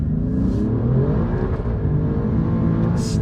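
A green Alfa Romeo Giulia Quadrifoglio drives down a winding road, its engine a steady, loud rumbling drone from inside the car with slight shifts in pitch as it pulls along, no talking.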